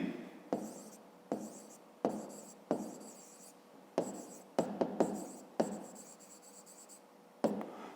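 A pen writes a perimeter formula on paper for a fifth-grade math problem, with about a dozen short scratching strokes in quick, uneven bursts, close and soft, separated by brief pauses.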